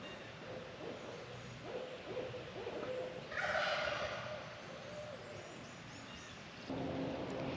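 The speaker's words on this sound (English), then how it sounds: "We've got 2 owls over there in the forest," Two owls hoot back and forth from a forest across a garden, their calls soft and fairly distant against a steady outdoor background.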